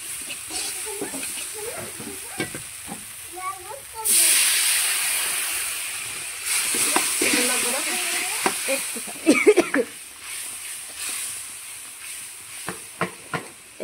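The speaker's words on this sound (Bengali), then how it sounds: "এভাবে মশলাগুলো একটু কষিয়ে নিব প্রথমে।" Turmeric, salt and chili powder fry in a pan for a fish curry, making a loud steamy hiss that swells and fades while a spatula scrapes and clicks against the pan.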